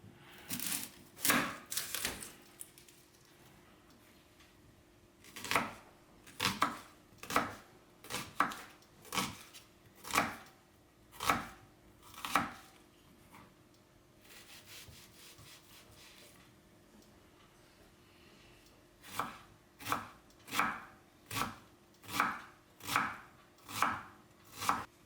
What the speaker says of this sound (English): Finely dice an onion.